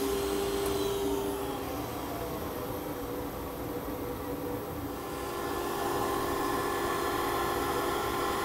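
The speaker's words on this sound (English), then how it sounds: "I am allowing the turning off the router and allowing the cutter to come to a complete stop" Router cutting wood on a router table, a steady loud high-pitched whine with broadband rushing noise that holds throughout, easing slightly midway, close by and without talk.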